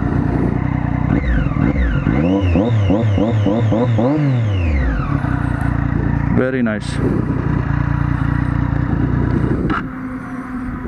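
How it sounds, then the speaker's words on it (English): A Triumph Daytona 675R sport bike revs repeatedly up and down nearby, its loud engine rising and falling in several sharp throttle blips, with someone speaking briefly over it. "Beautiful sounding motorcycle."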